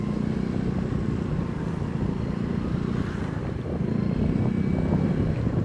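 A motorcycle climbs uphill on a slippery, rain-soaked dirt mountain trail, its engine drone steady and close under heavy wind noise, with a slight dip in the middle before the engine builds again.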